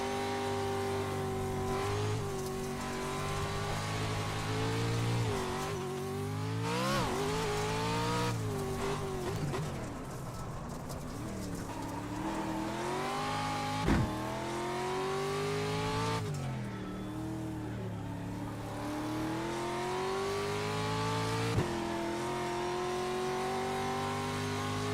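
A race car engine in an iRacing Pro 4 race at Wild West revs loudly and continuously, its pitch climbing and dropping through gear changes. The engine is close and sustained, with no voices.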